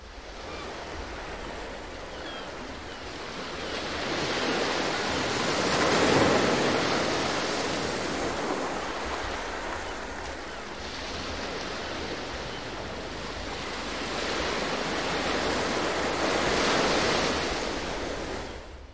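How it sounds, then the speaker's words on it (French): Ocean waves break on the shore in slow, rolling surges, a broad wash of surf that swells loud and fades twice across the stretch, steady and unbroken with no voices. "la plage et les vagues qui se brisent sur le rivage"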